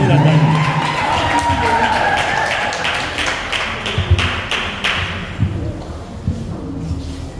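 An audience at a book launch for preschool teaching guides in the DR Congo applauds in a brisk run of claps that fades out after a few seconds, leaving a voice speaking in the room.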